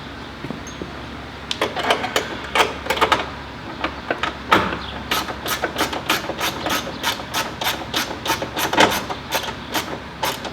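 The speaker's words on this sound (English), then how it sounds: "this is just a 1/4 inch ratchet" A 1/4 inch ratchet tightens a bolt on a 1997 Ford Crown Victoria LX front window regulator, giving rapid bursts of sharp clicks, near and distinct, with no talk.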